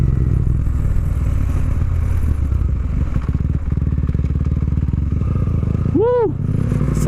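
A motorcycle is ridden along a one-way road, its engine giving a loud, steady close drone with wind noise, and a short whoop of voice near the end.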